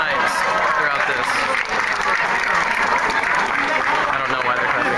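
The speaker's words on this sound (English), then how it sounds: "I don't know why they're clapping." Dense, continuous applause from a large crowd at a portable shrine festival in Iwate, loud and sustained throughout with a brief dip midway.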